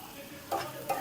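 A pan of fish frying with onions sizzles quietly while a utensil scrapes twice, two brief stirring strokes over the low frying hiss.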